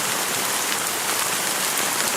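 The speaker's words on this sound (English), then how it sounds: "how long has this rain been going on for?" Steady rain pours in the Honkai: Star Rail video game, a dense, even hiss of drops on surfaces that holds constant and fairly loud throughout, with no other sounds.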